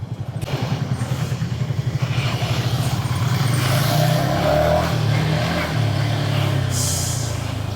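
A Yamaha XSR 155 motorcycle engine throbs steadily while riding on the road, its low pulsing note rising and smoothing out as the bike accelerates, with wind rush over it.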